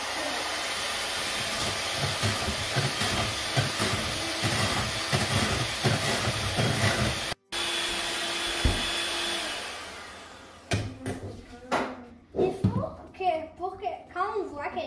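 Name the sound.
electric beaters whipping tres leches cream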